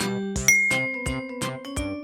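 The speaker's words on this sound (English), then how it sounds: "A soft chime sounded." Soft electronic chime in an airplane cabin, a run of clear ringing tones repeating in a steady rhythm, close and gentle, with no voices over it.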